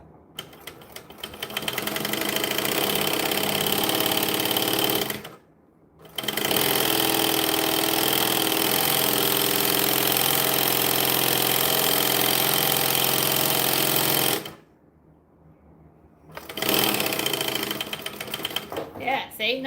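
A sewing machine stitches along the edges of a bag in long, loud, fast-running bursts, stopping twice in near silence before starting again, close to the microphone with a person speaking at times.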